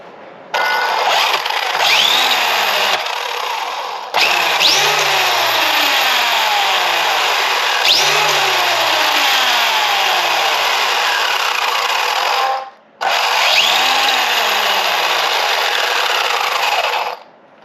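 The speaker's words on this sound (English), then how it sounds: "put the motor in, put the batteries in, and I decided to give it a little bit of gas, just to see" A Castle XLX2 ESC driving an 800KV motor in an Infraction V2 RC car, throttled in several short bursts: a loud electric whine that swoops up and down in pitch with each push, with brief pauses between.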